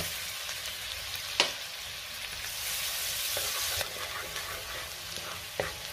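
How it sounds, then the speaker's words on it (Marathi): Chopped garlic and green chili fry in hot oil and butter, a steady close sizzle with a few sharp clicks of stirring against the pan. "1 मिनिटभर मी चांगलं परतून घेणार आहे"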